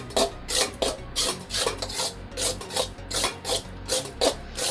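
Ragi flour being stirred and roasted in a pan, heard as rhythmic scraping and rubbing strokes repeating about every half second, close and moderately loud with no talk.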